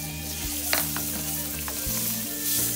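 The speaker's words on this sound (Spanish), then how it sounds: "Vamos a poner la cebolla" Chopped onion sizzles steadily in a hot pan, a continuous close frying hiss with a few soft spoon scrapes and knocks, no voices.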